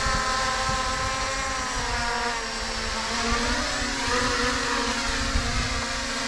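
An HT70 camera drone hovers in to land on a landing pad in gusty wind, its rotors a steady high buzzing whine with shifting pitch, close and continuous, roughened by wind noise.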